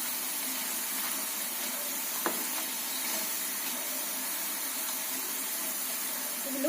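Bitter gourd pakoras sizzling in hot oil, a steady soft hiss with faint crackles and occasional pops, moderately quiet and with no voices.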